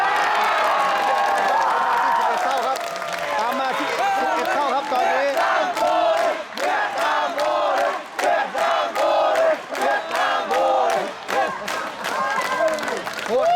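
A packed stadium crowd roars and chants continuously at a SEA Games gold-medal final between Vietnam and Thailand in Hanoi, dense and loud throughout, with rhythmic bursts of shouting and clapping.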